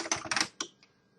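A short burst of computer keyboard typing, several quick close keystrokes in two clusters, then a single later tap fading out.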